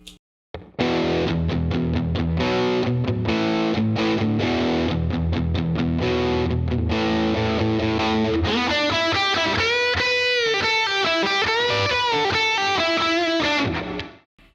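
A distorted electric guitar without a boost pedal plays chugging chords, then rings out sustained notes; gritty and loud throughout, with no speech.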